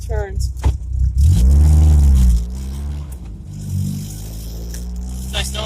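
MG Midget 1275 engine revving hard on the road, a loud rising then falling drone that swells for about a second, drops back to a steady cruising hum and picks up again near the end.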